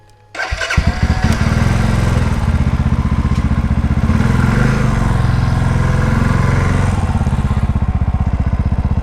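A motorcycle engine starts up and runs with a steady, chugging rumble, close and loud, continuing without a break.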